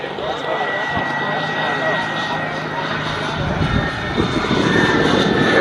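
A Viper Jet model turbine aircraft flies at a radio-control airshow, giving a steady, loud jet whine and roar that swells slightly toward the end, with an announcer and crowd talking over it.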